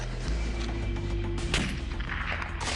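Barrett .416 rifle firing a long-range shot, a heavy boom with rumbling report and echo filling the short stretch, a second sharp crack near the end, no talk.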